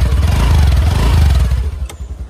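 TVS Ntorq scooter engine exhaust note, a loud close revving burble with rapid pulsing that holds steady before easing off near the end.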